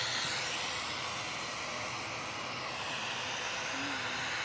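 Propeller aircraft at Manchester Airport, heard as a steady, loud engine drone that holds throughout with no breaks, with people talking faintly underneath.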